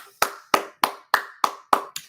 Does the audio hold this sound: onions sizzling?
no